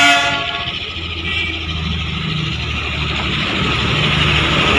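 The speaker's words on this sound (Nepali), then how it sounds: "यो चाहिँ हो दार्जिलिङको टोय ट्रेन" The Darjeeling Himalayan Railway toy train rumbles past at Batasia Loop, a loud, close, continuous rolling of wheels and wagons opening with a brief horn blast.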